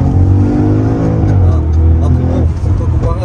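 Audi RS4 B8 or RS6 C7 accelerating hard, a loud, steady engine roar rising in pitch, close and continuous with faint tire noise.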